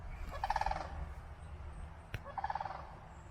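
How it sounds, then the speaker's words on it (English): Sandhill cranes in a Lake Superior wetland give two bursts of rattling, rolling calls close to a boardwalk, separated by a pause, with a soft outdoor background and one brief click between them. "So those are some quirky crane creatures. You can hear them with their honking noise."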